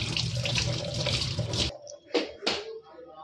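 Running tap water pours steadily into a sink as something is rinsed under it at home, then cuts off, leaving a few faint clinks and handling noises.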